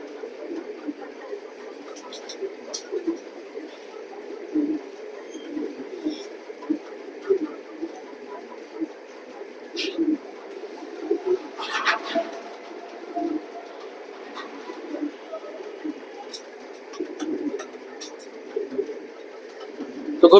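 Pigeons coo continuously in a pigeon loft, a dense murmur of overlapping calls with occasional wing flutters and sharper bird sounds throughout.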